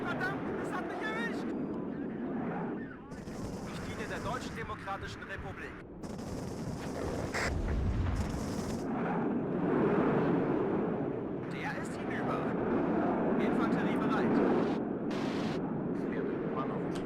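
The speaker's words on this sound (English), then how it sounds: "Good, nice strafe." An Su-25 Frogfoot ground-attack jet strafing in the WARNO video game, a dense rumble of cannon fire and explosions with bursts of impacts throughout, while someone talks over the combat.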